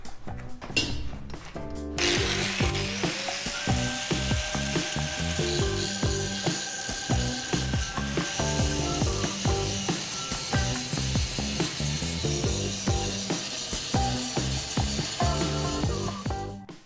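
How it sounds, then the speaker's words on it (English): A power tool wire-brushes and grinds a boat's galley subframe ahead of painting, loud and continuous with a steady rapid rattling, clattering texture throughout and a rising whine near the start. "let's go on with some grinding and preparation for painting. I've got to wire brush everything down. Let's get grinding."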